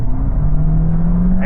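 The petrol engine of a 2026 Honda HR-V hybrid SUV drones loudly and steadily under hard acceleration, a low gruff hum rising slightly in pitch, heard from inside the vehicle.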